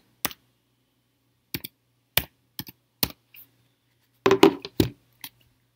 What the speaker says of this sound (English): I'm going to type that in